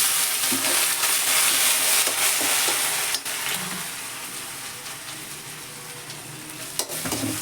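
Green chilli paste with dried coconut and salt roasting in oil in a pan, giving a steady close sizzle with stirring scrapes throughout and a couple of sharp clinks, with no talking.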